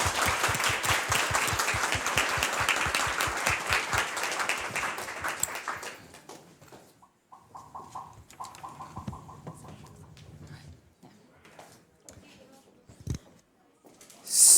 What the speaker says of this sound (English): I suggest we'll give one final applause for Timo before carrying ahead.